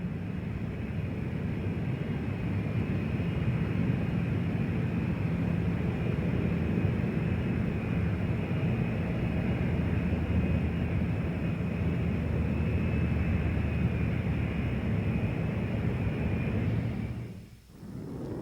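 A Rockwell B-1B bomber in flight, heard as a loud, steady broadband jet roar that holds without a break and dips briefly near the end.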